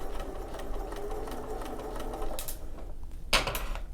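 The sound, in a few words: sewing machine sewing binding on with a running stitch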